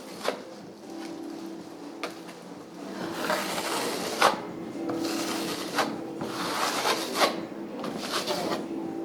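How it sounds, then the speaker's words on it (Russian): Decorative paste-type plaster being spread thinly across a wall in a first coat, heard as soft, continuous rasping and scraping strokes with occasional sharper taps of the trowel, fairly close and steady throughout. "Наносим первый слой штукатурки."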